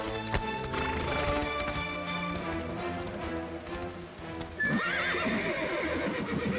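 Animated-series horses whinny loudly over a steady clip-clop of hooves during a thunderstorm, with rain pattering in the background.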